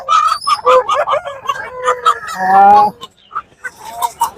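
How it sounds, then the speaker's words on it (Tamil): Several meat chickens at Kunnathur market cluck and squawk close by, with a rooster crowing loudly partway through amid a busy flock. "அப்படியே பார்த்தீங்கன்னா கறிக்கான கோழிகள் நிறைய இருக்கு"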